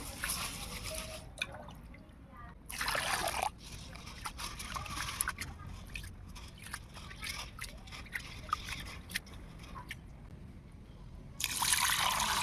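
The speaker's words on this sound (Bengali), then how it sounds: "আমি প্রথমে চালগুলোকে ভালো করে হালকা হাতে নাড়াচাড়া করে ধুয়ে নেব।" Rice grains are swished and rinsed by hand in water, a soft, intermittent wet dripping and trickling with brief splashy bursts near the start and end, close and fairly quiet.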